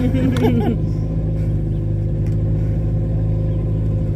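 A canal boat engine runs steadily with a low, even rumble throughout, and a brief burst of voice comes near the start.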